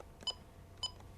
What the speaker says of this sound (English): I'm going to arm my alarm by entering my code, hitting enter.